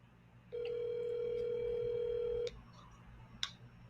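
A single telephone ring tone on an outgoing call to a radio-show guest, one steady electronic tone lasting about two seconds, then quiet with a faint click.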